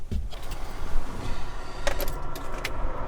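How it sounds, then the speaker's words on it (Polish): Ferrari car keys jingle briefly in a few light metallic clinks as they are taken from a pocket, against a low background rumble. "Niech no wyjmę kluczyk z kieszeni."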